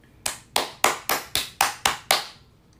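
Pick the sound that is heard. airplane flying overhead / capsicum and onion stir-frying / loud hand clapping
loud hand clapping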